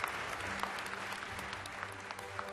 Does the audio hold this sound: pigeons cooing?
no